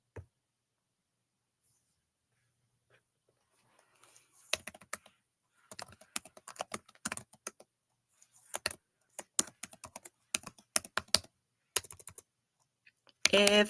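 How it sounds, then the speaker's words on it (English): Typing a web address on a computer keyboard: quiet at first, then irregular bursts of crisp key clicks in short runs with pauses, close and clear, with a voice talking in between. "So I'll just type it in."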